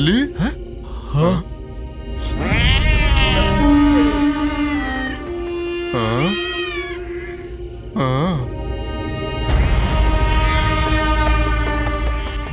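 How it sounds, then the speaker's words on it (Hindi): A cat meows several times in a dark horror setting, with rising and falling cries standing out over a loud rumbling, train-like background. "बिल्ली ने रास्ता काट दिया"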